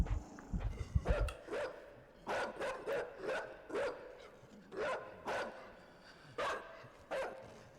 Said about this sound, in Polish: jest piesio, który ma wyłapywać defekty